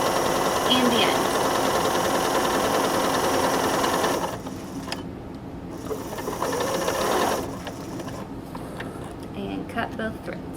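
A sewing machine stitching a French seam, a loud close mechanical whir that runs steadily, stops briefly, then resumes at a lower level with short pauses and light clicks.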